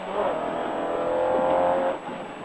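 Onboard engine of a Peugeot 106 Rallye rally car at full throttle, a loud steady high-revving drone that holds for about two seconds before easing briefly.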